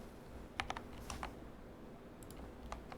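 Typing on a computer keyboard while writing code, with small clusters of light, close clicks separated by short pauses over a quiet background hum. Nobody speaks.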